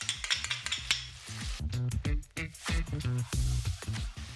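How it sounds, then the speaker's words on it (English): Chopped garlic and ginger sizzle in a pan over softened onions for Pakistani-style chicken karahi, with a spoon stirring and scraping the metal in quick irregular strokes over a light, close frying hiss. "the sizzle just dies down as the water content leaves the garlic"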